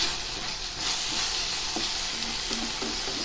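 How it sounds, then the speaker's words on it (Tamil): Onions sautéing in oil for a dried anchovy thokku make a steady, close sizzle with a bright hiss throughout, broken by a few soft stirring scrapes toward the end and no voices. "இந்த வெங்காயம் நல்லா வதங்கணும்."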